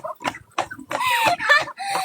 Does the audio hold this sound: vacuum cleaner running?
no